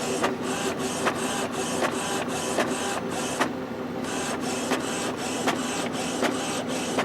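An Epson XP-series inkjet printer fitted with a continuous ink supply system runs a print job, its carriage whirring back and forth in steady rhythmic passes with brief clicks, close and continuous with no voices.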